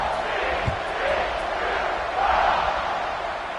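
Stadium crowd at a college football game murmuring and cheering ahead of a kickoff, a broad steady roar with swells at moments, heard from a distance.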